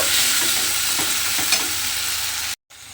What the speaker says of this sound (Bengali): মশলাটা আমি তেলের মধ্যে দিয়ে দিয়েছি। এবার মশলাটা খুব ভালোভাবে একটু কষিয়ে নেব।